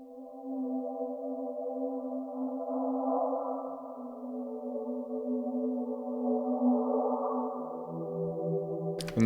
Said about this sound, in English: So I took another pad, split all the chord and reversed it.